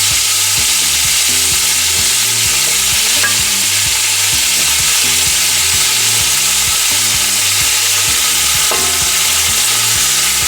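Rolled meat in intestine fries in a pan with a loud, continuous sizzle, overlaid by a regular rhythm of stirring or scraping strokes throughout, with no talking.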